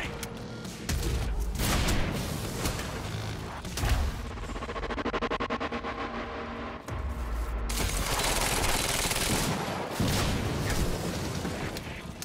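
Rapid bursts of gunfire from the game Quantum Break, dense shots and booms stacking into a loud sustained barrage with brief pauses, no voices.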